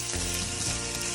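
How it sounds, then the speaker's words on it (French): Almonds fry in a pan with a loud, close, continuous sizzle and crackle, with no voices over it. "Et maintenant, on y met nos amandes, environ un petit bol d'amandes, 2 bonnes tasses."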